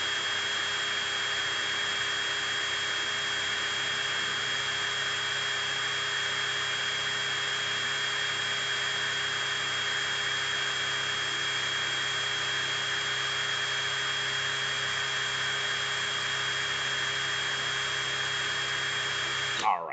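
A cordless drill spins steadily at roughly 1,800 to 2,000 RPM on a full charge, used for wrapping vape coil wire. The motor whine is loud and continuous for the full duration, cutting off abruptly at the very end.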